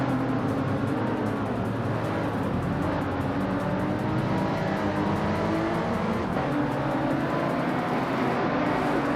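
A 2017 Renault Megane Trophy race car in a racing video game holds a steady, droning engine roar at speed, with shifting revs and faint tire noise, continuous and close throughout without talk.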